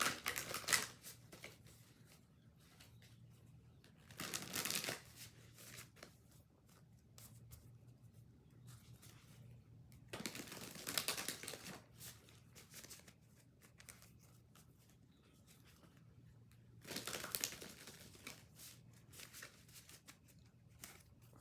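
Three short bursts of rapid riffling cards, spaced several seconds apart, close and crisp against a quiet background.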